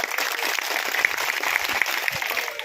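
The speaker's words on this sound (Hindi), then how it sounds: "शेर सिंह के लिए तालियां बजाएं जोरदार।" Loud, dense applause from a large gathering at a rally for nomadic communities in Bhilwara, a continuous close roar of clapping with a few sharp accents, no voices heard.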